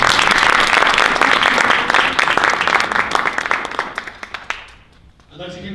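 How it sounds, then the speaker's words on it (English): Audience at a Poetry Out Loud regional competition in Findlay, Ohio applauding the judges and team, loud dense clapping that thins into scattered claps and fades out, with a voice starting at the end. "Can we give all of our judges and team a big round of applause?"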